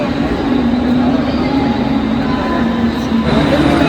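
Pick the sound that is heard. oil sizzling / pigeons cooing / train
train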